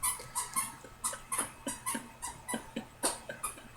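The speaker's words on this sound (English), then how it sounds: "Of course, he picks the squeaky toy instead of the bone he could chew on" A dog squeaks a squeaky chew toy over and over, a steady rhythm of sharp close squeals about twice a second, alone without voices.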